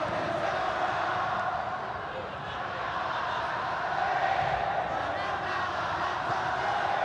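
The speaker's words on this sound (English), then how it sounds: "You can hear the crowd." A stadium crowd roars at the Indonesia vs Thailand football match in the Mandiri Cup 2025, a steady, distant wash of voices and chanting that holds at an even level throughout.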